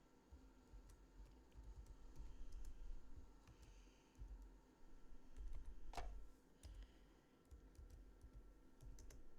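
Text is typed on a computer keyboard at a quiet desk, a steady run of soft key clicks with short pauses and one sharper tap midway, faint and close with no talking.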